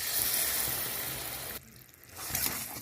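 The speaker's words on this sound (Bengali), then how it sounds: "গুড়টা চিরচির ভাব চলেছে" Jaggery sizzles in a hot wok on a gas flame, a soft, steady hiss that dips briefly midway and then resumes.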